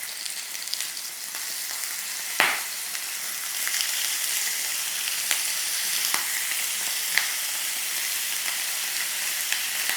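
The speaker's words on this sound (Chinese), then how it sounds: "那你煎了一个差不多3-5分钟，你就可以翻一下" Chicken pieces fry skin side down in a hot pan, giving a steady close sizzle and crackle throughout with a few sharper pops and spatters.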